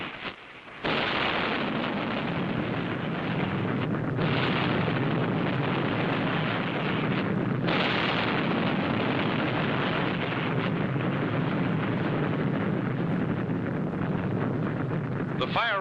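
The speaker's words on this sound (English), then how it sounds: "rockets, and small caliber ammunition continued to explode with increasing violence." Bombs, rockets and small-calibre ammunition exploding aboard the burning aircraft carrier USS Franklin make a dense, continuous roaring blast noise, loud and unbroken except for two brief dips, like a wall of explosions and fire.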